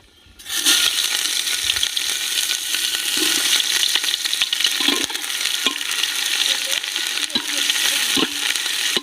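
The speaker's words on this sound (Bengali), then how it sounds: "পেঁয়াজটা একটু লাল লাল করে ভেজে নিতে হবে" Chopped onions fry in hot oil with bay leaves, dried red chillies and whole garam masala for chicken tehari: a loud, continuous close sizzle with occasional stirring scrapes and knocks.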